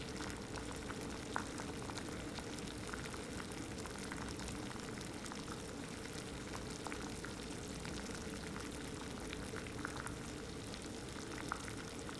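Water boils in a pot on a Fancy Feast alcohol stove, a steady bubbling and hissing texture with faint scattered pops that runs on unchanged and fairly quietly, with no voices.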